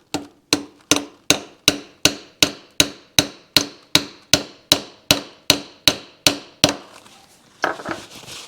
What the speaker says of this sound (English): And we'll start that with a brass hammer.